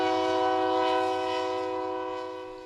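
A train passes on a railway that crosses the headwaters of the Taquari River, its steady, loud horn-like tone sustained throughout and slowly fading toward the end.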